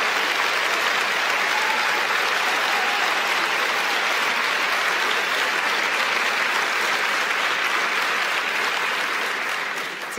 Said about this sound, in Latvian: Cik jauki arī dzirdēt šādus atbalstošus aplausus